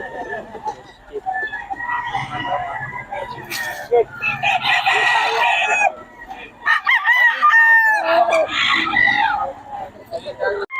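Gilmore Hatch gamecock roosters crowing repeatedly, loud and close, with overlapping calls and clucks while people talk in the background.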